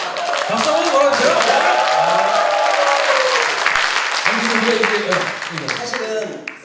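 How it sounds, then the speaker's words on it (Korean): A studio audience on a talk show claps in a full round of applause while voices speak over it, with the clapping loud and continuous before tapering near the end. "박수 한번 보내주세요."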